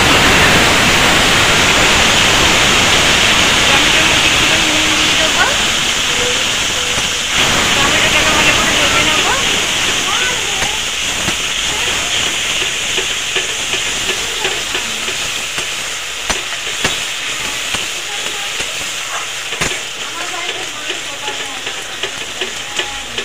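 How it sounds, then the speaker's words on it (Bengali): Grated tomato fries in hot oil with black cumin for a fish curry, giving a loud, dense hiss that slowly fades over the clip. Scattered stirring clicks are heard near the end. "টমেটোটাকে ভালো করে ভেজে নিয়েছি"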